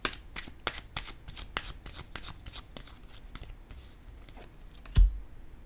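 Tarot cards are shuffled close by, with a rapid run of soft riffling flicks that thins out and ends in a single dull tap.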